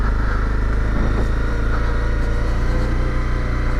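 A Honda CRF dual sport motorcycle riding on an abandoned logging road in snow, its engine giving a steady, close, continuous drone throughout with no talk.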